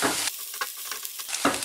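Ginger and onions are stirred and fried in a pan, with bursts of sizzle broken by short gaps and sharp scraping knocks of a spoon against the pan.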